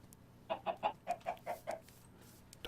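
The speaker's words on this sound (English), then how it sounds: "Dumbest chickens ever." Chickens in a Minecraft modpack game cluck in a quick run of about seven short, evenly spaced calls, fairly close and clear over a quiet background.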